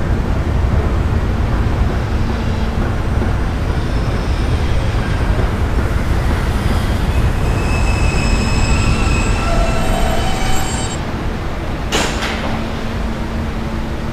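A New York subway R train running at night, loud continuous rumble of wheels on rails with drawn-out metallic squealing in stretches and a brief door-like burst near the end.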